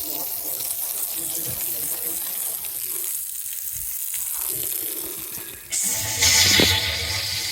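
Water runs from a hose into a boat's water tank under low pressure, a steady hissing stream that fades midway and then surges louder and brighter toward the end.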